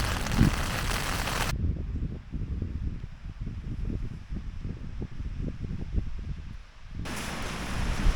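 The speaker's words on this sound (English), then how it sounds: "it's been raining all night, starting showers, strong hard showers" Steady rain pours down heavily on a camp in the Lake District, England, a dense continuous hiss with irregular patters and drips close by.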